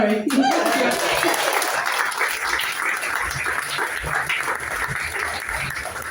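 An audience claps at a poetry night in The Cavern Pub, a warm burst of many hands that starts abruptly and keeps going at a steady, fairly loud level, with a voice briefly heard at the start.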